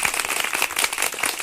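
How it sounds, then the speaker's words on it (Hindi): An audience at an MLM business meeting breaks into loud, dense applause, many hands clapping at once in a brief, steady burst. "ग्रेट, इनके लिए जोरदार तालियां।"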